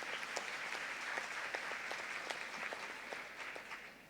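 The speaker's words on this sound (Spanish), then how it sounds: "Pido un aplauso, por favor, para Giselle." A crowd at a medical lecture applauds with steady, moderately loud clapping that continues throughout and tapers slightly at the end.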